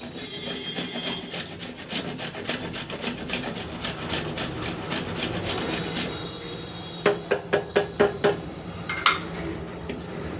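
Khoya milk solids are grated by hand for crab-shaped pithe, a continuous rough rasping rub in quick repeated strokes, then several separate scrapes toward the end. It is close and fairly loud, with no talking.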